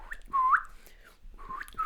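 A man imitating whistling, the way an Italian man whistled while dancing: two short rising whistled tones, close and fairly loud, with a brief pause between them and no speech.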